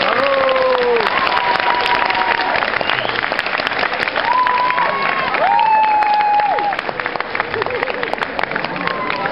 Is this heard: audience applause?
yes